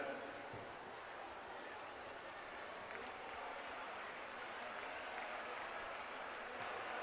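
Steady, dense applause from an audience at a religious discourse gathering, a continuous wash of clapping at even loudness for several seconds, fairly distant and diffuse, with no distinct voices over it.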